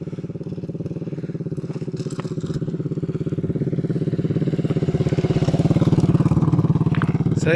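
A motorcycle riding over a rough road, its engine a close, steady rhythmic putter that grows slightly louder, with occasional clatter and bumps over the top.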